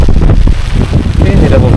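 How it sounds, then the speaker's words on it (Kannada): Strong wind buffets the microphone at a hilltop fort, a continuous loud low roar with gusty swells and no voices over it. "ಓ ಗಾಳಿ, ಸಿಕ್ಕಾಪಟ್ಟೆ ಗಾಳಿ."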